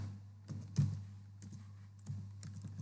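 A few scattered clicks of typing on a computer keyboard while entering the word delay in an IoT program, soft, irregular keystrokes over a steady low hum.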